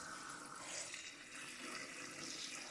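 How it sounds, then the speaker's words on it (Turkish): Water runs steadily into a jar for making grape pickle, a continuous soft rushing and gurgling fill, faint and close, with no talk. "Su doluyor."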